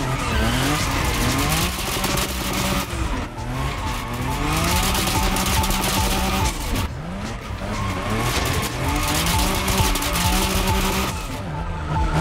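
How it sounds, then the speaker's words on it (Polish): A car drifts in the racing game TC Motorfest, its tires squealing in long sustained screeches over a revving engine, loud and continuous, with brief pauses as the slide shifts. "zobaczmy, czy dam radę na przykład wokół tego śmigłowca zrobić drift."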